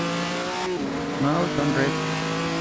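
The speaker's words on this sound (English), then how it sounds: "don't rev that much" A race car engine in the Assetto Corsa sim racing game, set at a 1948 Naples Grand Prix, drones steadily and then revs up and down in quick rising and falling sweeps, loud and close, with a voice faintly heard.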